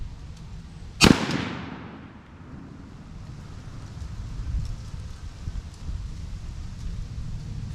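A single loud rifle shot rings out near the start while a Vortex Strike Eagle 1-8 scope is sighted in, with a sharp crack and a short decaying echo, followed by quiet outdoor ambience.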